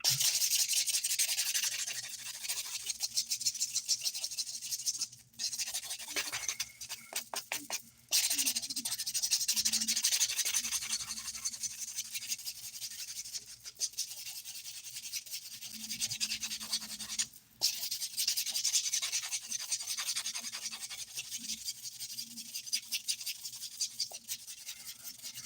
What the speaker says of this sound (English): I'm going to buff real quick.